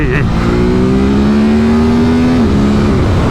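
A Ducati SuperSport 950S motorcycle revs up loudly with a rising tone, briefly dipping as it shifts gear, heard close with strong wind and engine roar.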